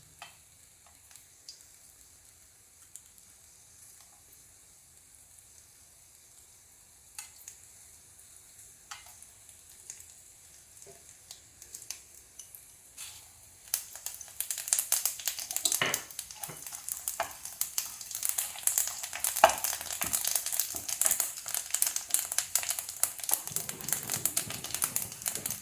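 Whole spices fry in hot ghee in a pan, starting faint and then rising into a steady bright sizzle with occasional scraping as they are stirred, close and continuous.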